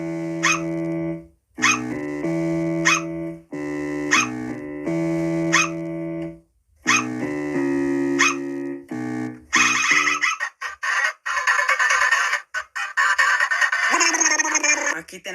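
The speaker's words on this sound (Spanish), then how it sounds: "Aquí tenemos a Grey, a Wenda, con el bajo y los ladridos de perro." Sprunki game character sounds: a looping pattern of pitched, bark-like synthetic tones over a bass line, in repeated bursts, then a harsher noisy section with dog-like yips.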